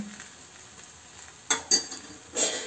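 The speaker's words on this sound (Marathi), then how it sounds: "पराठा टाकायचे, आणि पराठा टाकल्यानंतर आणखी पूर्ण गोल तेल टाकायचं, आणखी वरून पण टाकायचं" Oil poured around an aloo paratha on a hot pan sets off soft sizzling that rises in two sharp bursts midway and a longer crackle near the end, over a faint background hiss with no talk.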